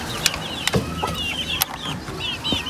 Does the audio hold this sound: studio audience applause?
no